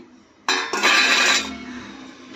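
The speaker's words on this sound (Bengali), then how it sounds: "আমি ঢাকনটা খুলে দিচ্ছি" A lid comes off a cooking pan of uttapam batter: a close, sudden metallic clank followed by about a second of rattling, scraping metal, then a quiet tail.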